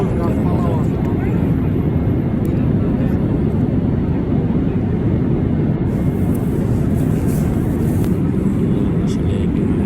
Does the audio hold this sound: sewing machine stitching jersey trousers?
no